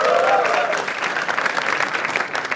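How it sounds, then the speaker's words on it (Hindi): A comedy show audience breaks into loud, sustained applause, dense clapping that stays strong for nearly three seconds, with a voice faintly audible underneath at the start. "एक बार जोरदार ताली फॉर जसप्रीत सिंह ऑल्सो."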